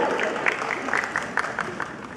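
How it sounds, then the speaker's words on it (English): Clapping from someone in a live audience at a Voices for Syria talk by comedian Baba Ali: dense, steady patter of applause-like claps across the short stretch, moderately loud and diffuse, with faint crowd murmur mixed in. "Is that a man clapping or a woman clapping?"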